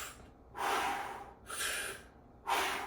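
Heavy, forceful breaths from someone lifting weights during a set, three long broadband rushes of air in a steady rhythm, close and fairly loud, with short quiet gaps between them and no talking.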